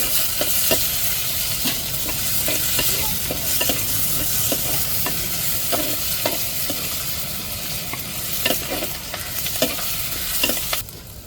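Tomato, chili and onion sautéing for egg curry, a continuous close sizzle with regular scraping stirs of a spoon through the pan, steady for the whole stretch.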